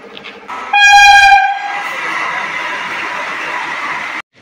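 A train horn blares loudly for about a second, followed by the steady rumble and roar of the train rolling past close by, then cutting off.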